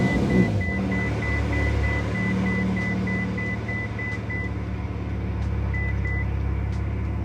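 Ignition switched on in a Ferrari California, with steady electrical hum and low idle-like drone, faint intermittent beeps and chimes over a constant background, close by.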